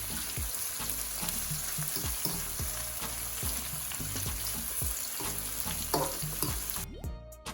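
Vegetables and seasonings for ackee and saltfish sizzle steadily in a hot pan, loud continuous frying with occasional stirring scrapes, cutting off near the end.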